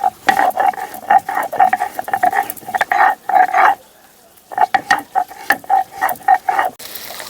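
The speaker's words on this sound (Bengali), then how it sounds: "এখন বেটে নিচ্ছি আদা" Ginger is ground on a grinding stone with quick, rhythmic scraping strokes, close and loud, pausing briefly midway before the grinding resumes.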